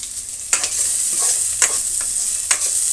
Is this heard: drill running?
no